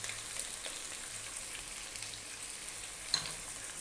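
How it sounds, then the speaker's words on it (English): Chopped garlic and ginger stir frying in a pan for chicken chow mein, a faint, steady crackling sizzle with a few light clicks, nearby and without any talking. "we're going to stir fry this for about 3 minutes"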